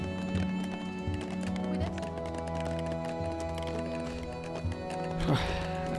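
Horses galloping and clip-clopping in the strategy game 0 A.D., a steady patter of hooves under in-game music and a brief vocal sound near the end.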